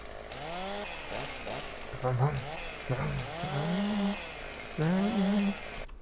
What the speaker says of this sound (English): Cut down a couple trees with the good old chainsaw here.